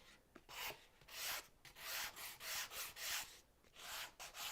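Rhythmic rasping strokes of a slightly tilted sanding pad rubbing across wood of a dovetailed jewellery chest, close and steady, in bursts of back-and-forth scrubbing with brief pauses.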